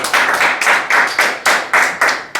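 A church congregation claps in unison during a worship service, about eight sharp, loud, evenly spaced claps close by, each ringing briefly in the room before the next.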